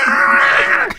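A person imitates an unhappy cat with a strained, wailing meow-like moan held for about a second, loud and close, ending in a brief breathy break.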